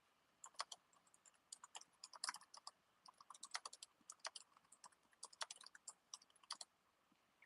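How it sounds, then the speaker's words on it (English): Steady typing on a computer keyboard at a desk while working, irregular bursts of crisp key clicks close up, with short pauses between runs and no voices. "Working and typing."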